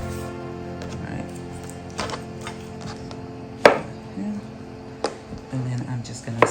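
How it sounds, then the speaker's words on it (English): A knife slices through peeled plantain on a cutting board in a home kitchen, giving a few sparse, sharp cuts over a steady background hum while someone talks. "I'm just gonna slice this way and that way"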